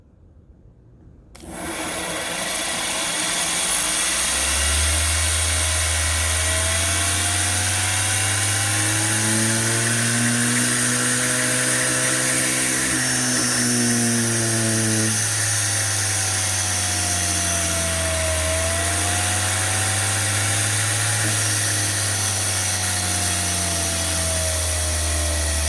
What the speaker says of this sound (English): you'll see this drill motor take off